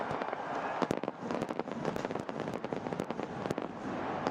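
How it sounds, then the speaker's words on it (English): Fireworks at a Dhaka cricket stadium after a Bangladesh Premier League match between Chattogram Royals and Dhaka Capitals pop and bang in a rapid, irregular barrage over a constant roaring crowd. "And the fireworks go off."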